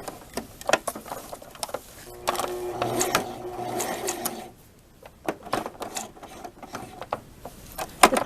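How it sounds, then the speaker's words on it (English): A sewing machine stitches elastic onto an eyelet blouse with satin trim. It runs in short rattling bursts with clicky mechanical ticks, a longer stitching run in the middle, then a quiet gap before more brief clacks. "Now I'm sewing the elastic"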